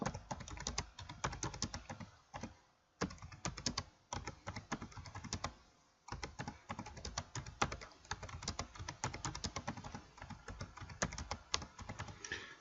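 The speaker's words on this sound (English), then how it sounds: "I'm gonna type something else" Steady typing on a computer keyboard, close and clear, with rapid bursts of key clicks broken by short pauses, including near-silent gaps around three and six seconds.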